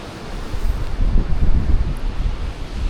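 Strong wind buffets the microphone on a Latvian seaside beach during a bicycle camping trip. Loud, low gusts rumble steadily, with no voices.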